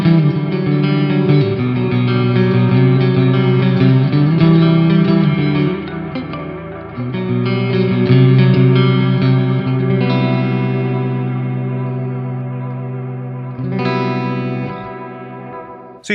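A 7-string electric guitar played through a clean tone with chorus, reverb and echo effects, strummed chords and ringing notes sustaining smoothly, loud and close with no speech.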